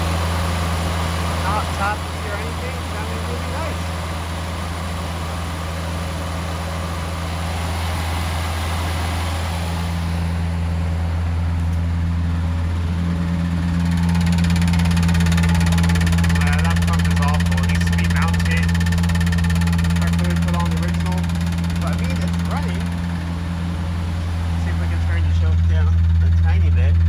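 An old Morris 1300 car engine, a barn find on its first start, idles steadily with a low, constant rumble for the whole stretch, its tone shifting slightly midway, while someone talks over it.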